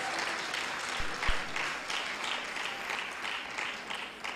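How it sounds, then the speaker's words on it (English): Audience applause fills a hall at a professional development day event, a steady, dense wash of clapping held for several seconds at moderate loudness with no voices on top. "Let's give them another round of applause."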